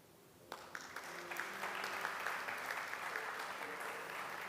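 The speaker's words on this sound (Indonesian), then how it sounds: "Pernahkah saudara berikan aplaus kepada mereka?" A church congregation gives a long round of applause for its deacons and ministers at a Sunday service, the clapping rising quickly and holding steady, full and close.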